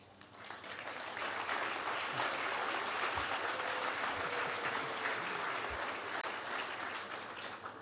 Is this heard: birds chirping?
no